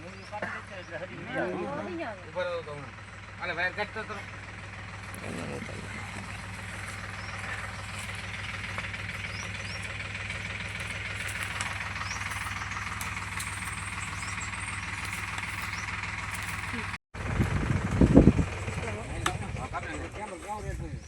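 A steady, rumbling tractor engine drones for most of the stretch at moderate distance, with someone talking over it at the start and a brief clatter near the end.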